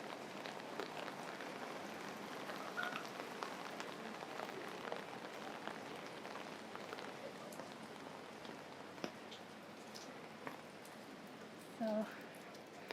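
Steady rain falling on a riverside in downtown Singapore at Boat Quay, a soft even patter on wet surfaces and puddles with a few louder drips, faint distant voices.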